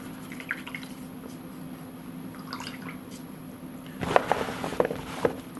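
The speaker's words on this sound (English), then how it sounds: "And just rinse off the brush just to stop the paint getting into the ferrule." A paintbrush is rinsed in a water pot while painting a steampunk miniature, soft swishing and dripping over a steady background hum, building to clearer splashy dabs and taps near the end, no talking.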